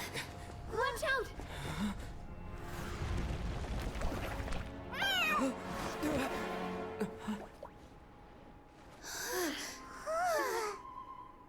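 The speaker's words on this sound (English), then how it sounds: "So, Kirara can turn into a blocky cat?" Meowing in the Genshin Impact video game, several short rising cat calls at moderate loudness, spaced across game sounds and effects.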